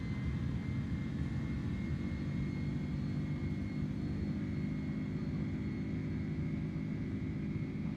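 An Airbus A310's jet engines held at takeoff thrust in Microsoft Flight Simulator 2024 give a steady, low, rumbling roar with a faint high whine running through it, unchanging and alone at quiet level.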